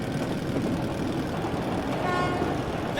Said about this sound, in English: That's the train! We were right!